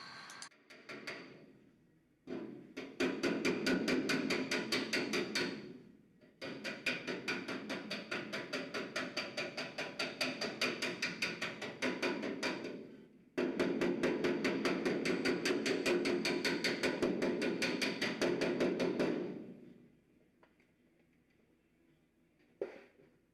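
Hammer blows shape and shrink the steel body tub panel of a Triumph TR250 in a restoration shop, coming in long, rapid, loud runs of metallic strikes separated by short pauses.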